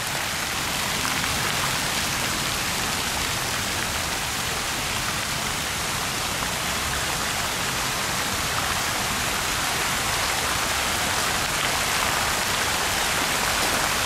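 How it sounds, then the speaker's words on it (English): Loud, continuous rushing water roaring steadily like a nearby waterfall or fast stream, filling the whole scene without pause, at a park in Ghana. "So I know you hear all this water"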